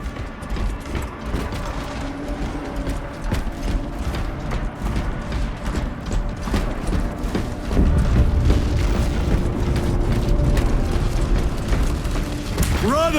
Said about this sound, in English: Preparing an orbital barrage.